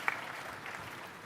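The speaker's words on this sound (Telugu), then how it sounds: "చప్పట్లు కొట్టి అభినందించండి" An audience at a stage event with the chief minister and a district collector gives a brief, fairly faint burst of applause that fades quickly.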